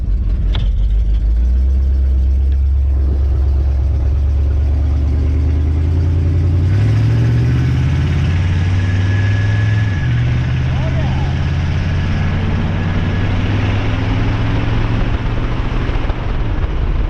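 A 1958 GMC pickup with a TH350 transmission drives along, its engine note rising and dropping in stepped pulls as the gears shift, loud and steady inside the cab while someone talks over it.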